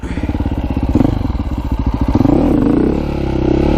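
KTM mini bike motorcycle ridden in first gear, its small engine putting out a loud, close, fast chugging pulse that rises in pitch as the rider pulls away and then holds a steadier drone.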